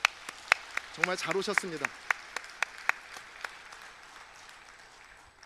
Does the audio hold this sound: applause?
yes